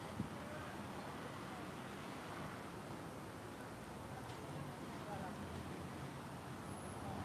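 Road traffic drones steadily while driving through Kottayam, a dense, even wash of engine and tire noise with no distinct passing vehicles standing out.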